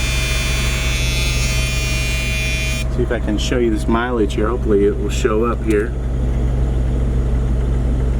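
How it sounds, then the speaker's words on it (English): A motorhome coach engine idles just after start-up, a loud, constant low rumble and hum with a steady tonal drone, while someone talks close by over it. "Okay, I just started up the engine here."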